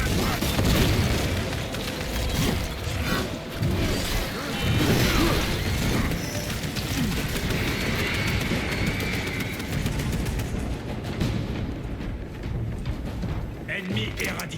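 Grenade blasts in the Space Marine 2 video game, booming under a constant dense wash of combat noise, gunfire and mechanical clatter, with voices talking over the din.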